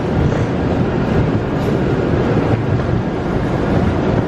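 Train at a station platform in Nagano, Japan, a loud continuous low rumble and rolling noise without breaks.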